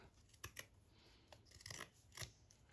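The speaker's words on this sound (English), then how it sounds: "I will trim this just a little bit to stay within the confines of my piece" Scissors trimming the edge of a fabric piece for a stitchery project, a few soft, quiet snips spaced irregularly at close range.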